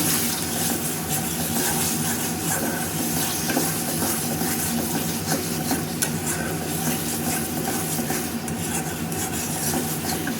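Prawns and spice paste fry in oil while being stirred and scraped, a steady close sizzle with rough rubbing strokes running throughout.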